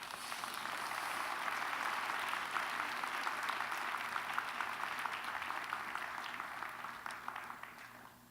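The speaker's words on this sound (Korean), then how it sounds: "우리 할렐루야 큰 박수로 맞이해 주시겠습니다" Sustained applause from a church congregation at a Sunday worship service, welcoming a university president to the pulpit; dense, even clapping fills the hall for about eight seconds and tapers slightly at the end.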